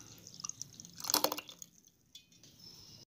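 About half a cup of water, used to rinse the blender jar, is poured into blended mango in a pan, giving a short, quiet splash and trickle with faint drips before and after.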